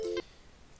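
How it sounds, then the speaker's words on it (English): A phone alarm gives a short beeping tone that cuts off quickly, heard over a quiet room during Minecraft play, with nothing else sounding after it. "That's my alarm."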